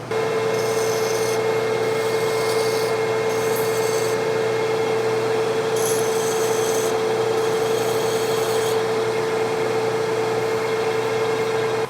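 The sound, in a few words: hand file filing sharp edges of metal skid steer part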